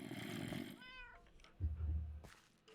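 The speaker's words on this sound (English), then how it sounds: "Cats." Cats meow faintly in a short, thin, rising cry amid muffled background noise and low rumbling thumps, quiet and somewhat distant.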